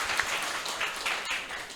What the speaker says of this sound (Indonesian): Boleh berikan tepuk tangan untuk kita semuanya.